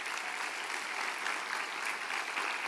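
A church congregation applauds strongly during a sermon, a steady wash of many hands clapping heard at a modest distance, even and unbroken across the stretch, with no talk.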